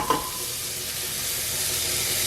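Turmeric, hing and pepper powder hit hot oil in a pan with a sharp crackle at the start, then settle into a steady, close sizzle that holds to the end.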